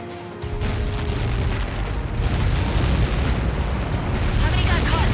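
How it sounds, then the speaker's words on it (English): A huge blast in the flight combat game Ace Combat 7 erupts into a loud, deep, rumbling roar that swells and keeps booming for several seconds. "How many got caught in that explosion?"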